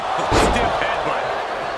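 A stiff wrestling headbutt in a WWE Raw Last Monster Standing match between Braun Strowman and Bronson Reed lands as one loud, near slam early on, with arena crowd noise and commentary continuing around it.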